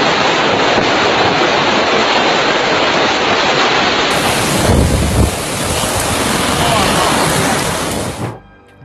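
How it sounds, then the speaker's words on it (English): Strong wind blowing during a storm, a loud continuous roaring rush buffeting the microphone for several seconds, with a heavy low gust midway before it cuts off abruptly, and no voices. "Strong wind blows everything."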